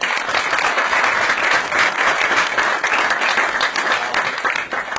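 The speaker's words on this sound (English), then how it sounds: "A round of applause for this lady here." Audience applause at a mentalism show for a committee member called up from the crowd, a sustained, loud round of clapping from a full room, steady throughout with no voices on top.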